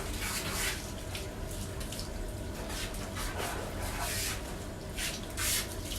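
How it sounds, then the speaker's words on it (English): Fine-holed spray nozzle running water against a Bichon's coat during a bath, a steady broadband hiss that holds for the whole stretch with slight surges, close by and with no talking. "this kind of nozzle I really like because it's got a lot of little fine holes, and you can put it right up to the skin"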